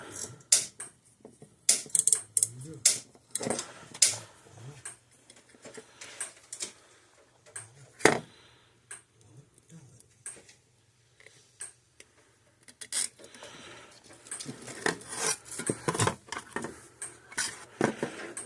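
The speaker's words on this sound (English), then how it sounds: "put these zip ties around it" Sharp plastic clicks and ratcheting ticks come in irregular bursts as zip ties are pulled tight around a Gallagher M1 electric fence energizer, close and fairly quiet, with brief handling rustles between.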